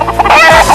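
A cartoon chicken clucks in a quick, loud run of squawking notes from a 1984 French-dubbed racing cartoon, alone and close.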